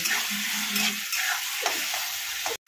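Onion and tomato frying in oil, a constant bright sizzle up close with occasional stirring scrapes, cutting briefly to silence at the very end.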